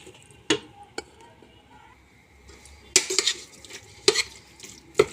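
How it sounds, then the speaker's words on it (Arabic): Chicken is stirred into a yogurt marinade in a bowl, with soft wet squelching and several sharp clinks of a utensil against the dish, close and intermittent. "هبدا ان انا اقلب"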